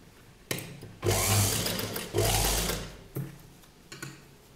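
A sewing machine stitches a strip for a ball gown in short bursts, two longer runs of whirring between brief starts and stops, close and clear with no voices.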